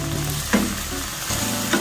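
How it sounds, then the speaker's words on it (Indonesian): Chicken stir-frying in spice paste in a pan, a steady close sizzle with a few louder stirring scrapes, no voices. "Kita masak ayamnya sampai benar-benar ngeresap dengan bumbunya ya"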